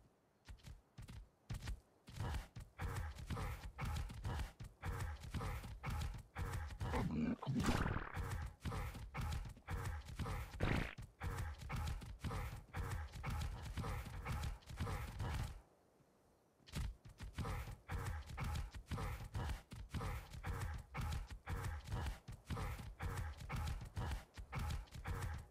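Many horses walking together, hooves clip-clopping in a dense, continuous rhythm close by, with a brief pause midway before the steady clatter resumes and an occasional whinny.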